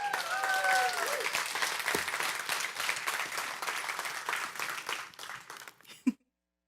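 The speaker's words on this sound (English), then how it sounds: "We can give her another round of applause, if you would." Audience applause fills a church service gathering, a steady dense clapping that carries for about five seconds, then thins and stops abruptly with one last sharp clap.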